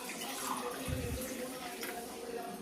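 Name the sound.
water being poured for making juice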